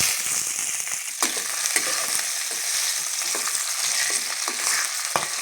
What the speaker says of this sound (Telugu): పండు మిర్చి బాగా ఫ్రై అవ్వాలి.